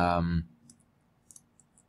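Several faint, sharp computer mouse clicks while working in Photoshop, scattered sparsely across quiet room tone after a brief burst of speech at the start.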